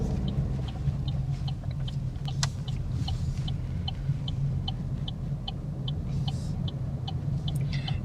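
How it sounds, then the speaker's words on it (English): Cars pass at a UK roundabout as a constant low engine rumble and road noise, heard steadily from inside a vehicle with a regular ticking indicator throughout. "So we've got cars coming from the right-hand side, allowing that traffic to go and looking for our gap."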